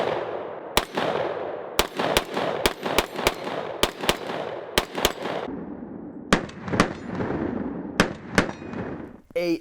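Unsuppressed shots from a short-barrel AR-15, an 11.5-inch PWS with a muzzle brake: about fifteen sharp, very loud cracks, some in quick pairs and some spaced, each trailing a ringing echo.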